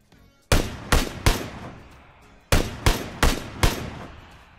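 Rifle shots in PUBG on the Erangel map, fired toward a low wall: seven sharp, loud cracks in two bursts, three close together, then a pause and four more at a steady rhythm.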